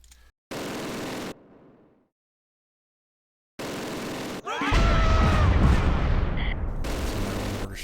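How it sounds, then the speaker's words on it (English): Artillery shells pound the battlefield in Close Combat Wacht am Rhein, a WWII strategy game. Loud, heavy blasts arrive in separate bursts with a silent gap between them, then become a sustained rumbling barrage of overlapping explosions. "Yeah, the artillery is totally devastating."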